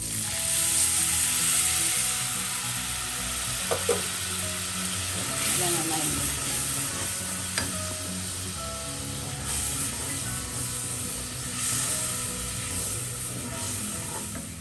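Tamarind water goes into frying masala for an Onam sadya ginger curry (inji curry), producing a strong, steady sizzle under occasional stirring scrapes and clinks that lasts the whole stretch.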